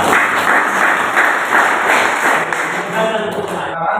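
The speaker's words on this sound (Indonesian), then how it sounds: "Tepuk tangan untuk kelompok" A classroom of students applauds a group presentation, dense steady clapping filling the whole stretch before thinning out at the very end.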